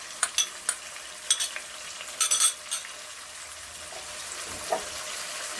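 Ginger and garlic paste sizzles in a pan with small fish, a soft steady fry under a few sharp clinks and scraping stirs clustered near the start.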